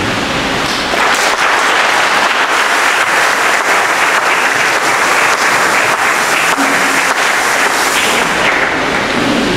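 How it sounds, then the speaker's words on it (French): Mourners at a Catholic funeral mass for a priest applaud his community, and the loud, dense clapping holds steady for the whole stretch without pause. "on va pouvoir applaudir cette communauté"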